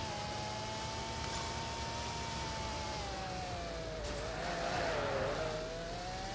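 A car in Roblox Car Crushers 2 drives with a continuous loud engine drone whose pitch wavers and dips as it turns, a brief scrape or skid sound midway.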